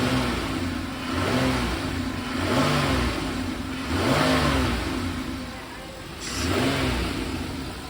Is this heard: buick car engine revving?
yes